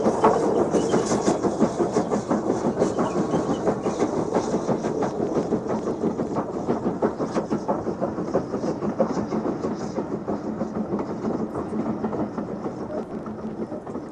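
Steam locomotive Evening Star, the last British mainline steam engine built, runs on the West Somerset Railway in Somerset, a steady loud rumble with rapid rhythmic chuffing and rail clatter sustained throughout, with no voices.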